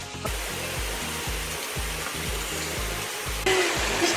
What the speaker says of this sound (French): Dans notre super cascade à 3 degrés là.